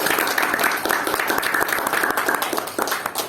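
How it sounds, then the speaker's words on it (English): Audience applause at an evening Brunei Speakers Club Toastmasters meeting, greeting a table topics evaluator: a steady, fairly close wash of many hands clapping that holds for a few seconds with no talk. "Can we give him a warm applause to"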